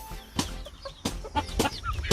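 Chickens in a farm chicken house give several short, close clucks and squawks in irregular bursts, with a door-handling clatter and general barn rustle underneath.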